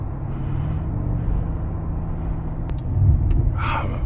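A 2023 Mercedes G-Wagon 550 with its 9-speed automatic downshifting, a steady low engine rumble heard from inside the cabin that swells slightly near the end, with a couple of faint clicks and no talking.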